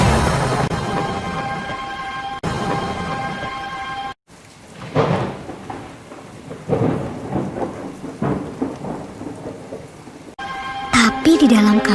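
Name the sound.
heavy rain and thunder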